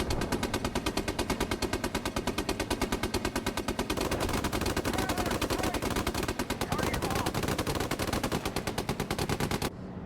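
Rapid continuous automatic video game gunfire rattles without pause for about ten seconds, dense and loud, with faint voices underneath.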